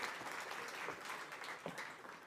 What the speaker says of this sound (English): A round of applause, please, for this panel.